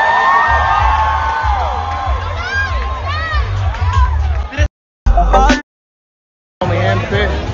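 An audience at the Premios Heat awards in the Dominican Republic cheers and whoops over loud music, with crowd noise broken by brief gaps.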